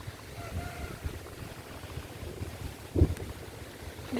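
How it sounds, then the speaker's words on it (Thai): Wind blows across a dug fishing pond about thirty metres long, a steady low rumble of breeze buffeting the microphone with a stronger gust around the three-second mark. "อย่างนี้เนี่ยลม ลมมันพัดตรงเนี้ยมาอย่างเงี้ย"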